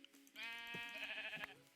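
A sheep bleats in the Minecraft video game, one long wavering harmonic bleat close and clear, with a short game click near its end and no talking.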